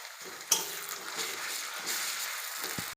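Garlic paste hitting a hot pan while cooking a meat and green pea ghugni: a quick clank, then a steady close sizzle with a faint tap near the end, no voices.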